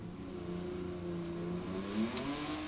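A 1992 Oldsmobile Achieva four-cylinder drag car, 130 cubic inches with a stick shift, launching down the strip, its engine revving and rising in pitch, steady and moderately loud at a distance.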